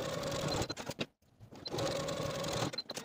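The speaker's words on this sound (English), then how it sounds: "Now take the pockets to the sewing machine and edge stitch close to the bottom edge" A sewing machine edge-stitches fabric pockets near the bottom edge, running in fast close whirring bursts with a brief stop in the middle.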